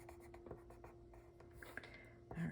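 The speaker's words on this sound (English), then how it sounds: "I love my colored pencils for quick and easy coloring." Soft, steady scratching of colored pencils on paper, quick short strokes repeating close up in a quiet room.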